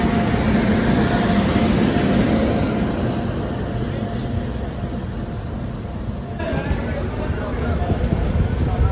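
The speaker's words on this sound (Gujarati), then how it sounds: "જો આ બાંદ્રા ઉપડી હો ભાઈ, જો એક્સપ્રેસ જાય છે સીધી બાંદ્રા" An express train rumbles and rattles along steadily, loud and close, heard from inside a general-class coach, its wheels clattering continuously while someone talks over the noise.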